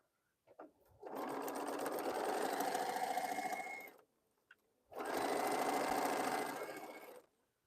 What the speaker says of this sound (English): Let me sew something just so I can get all of this off of here.